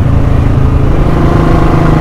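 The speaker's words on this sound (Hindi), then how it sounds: "आवाज़ देखो बुलेट की कितनी बढ़िया आ रही है" A Royal Enfield Bullet motorcycle engine runs while being ridden, giving a steady, loud, continuous low thumping drone that holds without pause for the whole two seconds.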